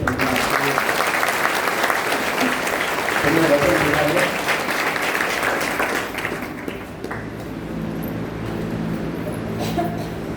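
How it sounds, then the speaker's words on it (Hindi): Loud, sustained applause from a large church congregation that gradually thins and fades toward the end, leaving quieter room noise. "इस वचन के लिए जोरदार ताली बजा रहे"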